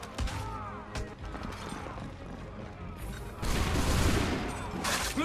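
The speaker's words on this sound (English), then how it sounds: "Bluecoats, firing from above. Take them out!" Musket volleys in the video game Assassin's Creed III, sharp shots and crackling bursts mixed with battle clamor and mechanical clatter, swelling louder in the later seconds, with a faint voice briefly heard.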